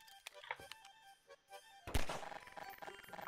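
Gunfire in the video game Blitzcat's Malice: a sudden loud burst of shots breaks in after quieter game sounds and music, then rattling, busy noise carries on to the end.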